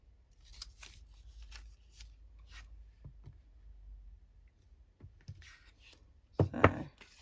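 Scissors trimming paper faux vintage tickets, a series of crisp close snips and paper rustles at an irregular pace, ending in a louder burst of cutting.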